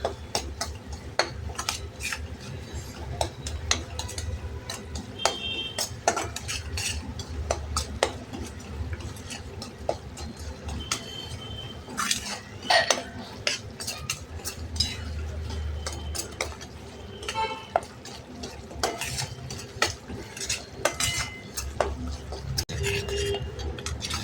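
Semolina (rava) being stirred and roasted in a pan on low gas for prasad sheera, with a steady scrape of spoon against the metal and faint clinks and taps throughout, close and continuous without talk.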